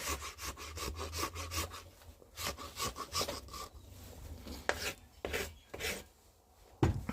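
A farrier's rasp works around the hoof wall of a cadaver horse leg in quick, rhythmic scraping strokes, close and distinct, with a few short pauses between passes.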